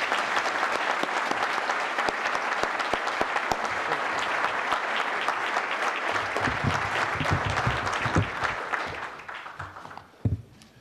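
A large crowd gives warm, sustained applause welcoming CIA Director Pompeo. The applause is dense and steady for about ten seconds, then thins and fades near the end.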